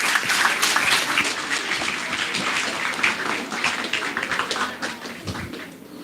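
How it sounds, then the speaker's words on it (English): An audience at a Bhavans Amritsar event gives a sustained round of clapping, dense and steady for several seconds before thinning and fading at the end. "A big round of applause for Dr."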